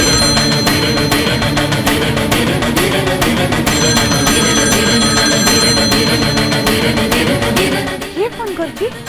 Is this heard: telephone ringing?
yes